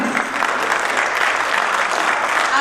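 An audience at an International Women's Day cultural performance in Ranchi applauds after a performance, with sustained, fairly loud clapping that fills the whole stretch without a break.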